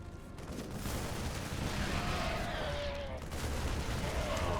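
Tanks firing during a StarCraft 2 tournament battle, dense volleys of game explosions and gunfire forming a continuous loud barrage with whistling effects.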